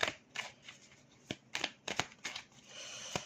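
Tarot cards are shuffled in quick, crisp riffling bursts, close and fairly quiet, with short pauses between each flurry.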